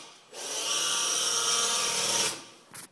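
A power drill whines steadily for about two seconds while drilling into a metal exhaust header, then stops, followed by a brief short burst near the end.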